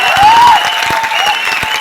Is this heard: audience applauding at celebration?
yes